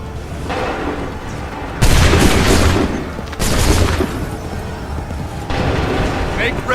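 Loud musket volleys crash out in the Assassin's Creed III video game, three booming bursts of massed gunfire with rumbling tails, each followed by a softer lull.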